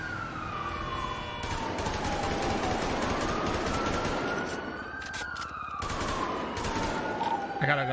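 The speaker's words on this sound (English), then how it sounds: "Shots fired, shots fired." Gunfire in a GTA roleplay video game, rapid bursts of loud shots crackling over a police siren that wails up and down throughout, with a few sharp close bangs near the end.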